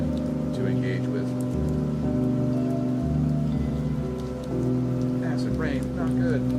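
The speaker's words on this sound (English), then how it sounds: "Acid rain, not good." Steady acid rain patters in the video game Kenshi, layered over a low droning game music bed, continuous and moderately loud throughout.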